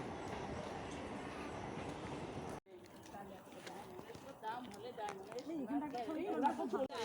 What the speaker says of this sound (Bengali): 3 নম্বর প্ল্যাটফর্ম দিয়ে ট্রেন যাচ্ছে